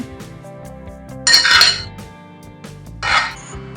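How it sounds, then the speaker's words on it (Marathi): A spoon mixes cucumber, salt and cardamom powder in a bowl, giving two short bursts of metallic clinking and scraping over a soft tonal background. "आता हे सगळं मिक्स करून घ्यायचंय"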